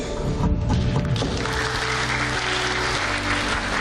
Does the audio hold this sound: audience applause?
yes